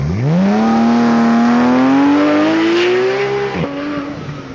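Supercar on a track at Beaulieu, engine note climbing steadily in a long loud acceleration, then a sudden drop and shift near the end as the car brakes hard.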